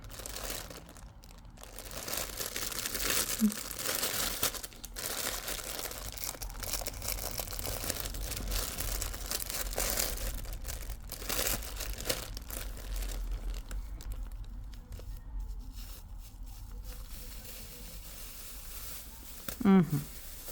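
Plastic packaging from a Temu parcel crinkles and rustles almost continuously at close range, with someone speaking briefly over the handling.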